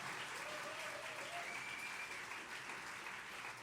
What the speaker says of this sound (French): On peut quand même les applaudir très fort